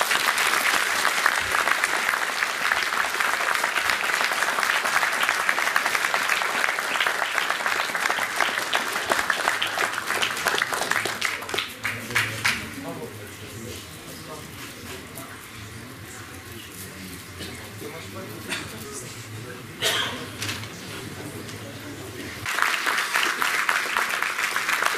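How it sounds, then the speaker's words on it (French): Sustained audience applause at a petanque tournament trophy ceremony in Paris, a dense crowd clapping that fades to scattered claps and murmur, then swells back up loudly near the end. "je demande vraiment vos applaudissements les plus sincères."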